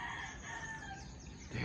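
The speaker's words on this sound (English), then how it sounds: "Roosters." Roosters crowing at morning where they roost overnight, a sustained drawn-out crow with other fowl sounds behind it, close and steady throughout.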